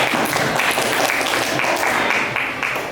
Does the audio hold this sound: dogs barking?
no